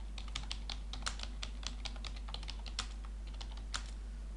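Typing on a computer keyboard, a quick irregular run of light key clicks at moderate distance over a constant low hum, with no talking.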